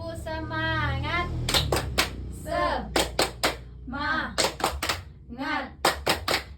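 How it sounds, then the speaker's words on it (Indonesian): A class of schoolchildren performs the 'tepuk semangat' rhythmic clapping, loud sharp claps in tight patterned groups alternating with the children's chanted voices. "1, 2, 3, tepuk semangat."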